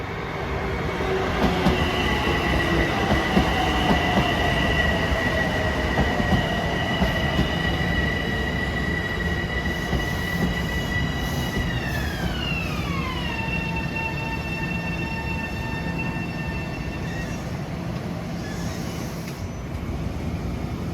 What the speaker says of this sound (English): Oh, here's train 2096 from Atlantic Terminal, Brooklyn to Ronkonkoma at 5:11.